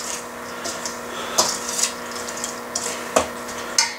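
Spoon or utensil stirring yeast and flour in a bowl for no-knead olive oil and rosemary bread, with soft scraping and a few sharper knocks against the bowl's side, close by and fairly quiet.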